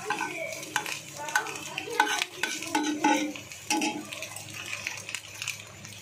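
A utensil scraping and stirring semolina in a pan, close and steady, with repeated scratchy strokes and light clinks against the metal over a low background hum.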